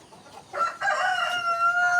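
An Indonesian village rooster (ayam kampung) crows once close by, a bright drawn-out call that rises and holds, preceded by faint clucking and rustling in a quiet farm setting.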